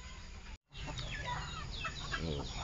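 Chickens cluck in a busy barnyard, several birds overlapping fairly close, with a brief dropout near the start.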